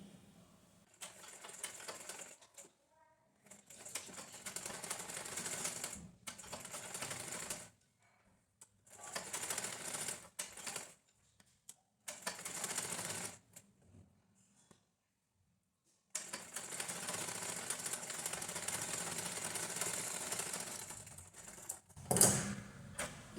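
A sewing machine stitches a lining blouse along a half-round design, running in several bursts of varying length separated by short pauses, close and steady with a brief sharp click near the end.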